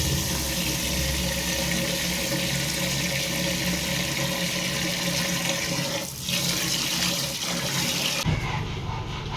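Water from a tap runs steadily and loudly into a vessel while rice is rinsed and set to soak, a continuous rushing stream that cuts off sharply near the end.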